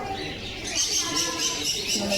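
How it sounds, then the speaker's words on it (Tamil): Pigeons coo softly and continuously in a park, the low rolling calls mixed with chirps while people chat nearby. "புறா"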